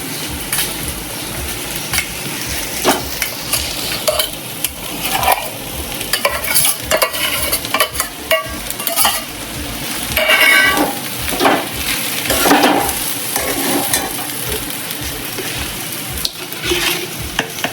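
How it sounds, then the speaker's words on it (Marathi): Potatoes and green chilies fry in oil while being stirred for sabudana khichdi, a loud continuous sizzle broken by frequent scraping and clinking of a spoon in the pan, with no voices. "हे थोडे असे फ्राय होऊ द्यायचे बटाटे आणि मिरची."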